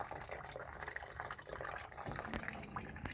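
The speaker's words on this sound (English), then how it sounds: "It's got a lot of water that is still draining." Water still draining from an old State Select gas water heater as it is removed, a faint, continuous trickling and gurgling with small splashes, heard alone without talk.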